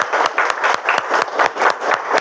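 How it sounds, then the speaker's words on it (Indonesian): A classroom of students gives a short round of applause at a teacher's request: steady, rhythmic clapping in unison, loud and close, lasting about two seconds. "kita tepuk tangan dulu semuanya."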